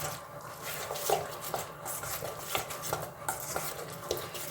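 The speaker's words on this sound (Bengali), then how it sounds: "রসটা দিয়ে ভালো করে এটাকে একটু ফেটিয়ে নিচ্ছি" Drumstick flower batter being whisked in a bowl, a steady run of close utensil scrapes and taps against the bowl's side with no talking.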